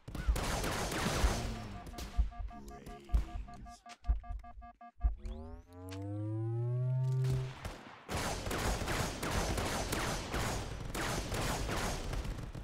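Gunfire in the VR video game Contractors, dense rapid automatic bursts that break off for a tonal sweeping effect, then resume as a loud sustained barrage.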